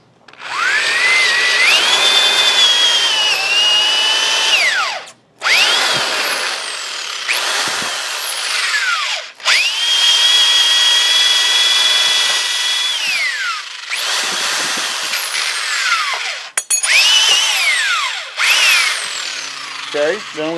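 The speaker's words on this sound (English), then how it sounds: "I'm just going to go ahead and drill this out." A power drill with a 1/2 inch bit bores through a 2x4 for a homemade steel target stand. The motor whines loudly in several long bursts, its pitch rising and falling as the bit bites and is released, with short pauses between runs.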